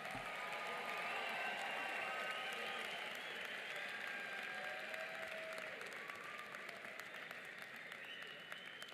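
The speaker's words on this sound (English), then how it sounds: "Please give an extra round of applause for our last graduates to cross the stage." A graduation ceremony crowd applauds the last graduates to cross the stage, a full, sustained roar of clapping with faint cheering mixed in, loud and even from start to finish.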